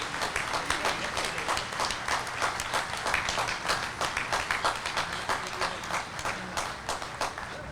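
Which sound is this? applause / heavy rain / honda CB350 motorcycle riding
applause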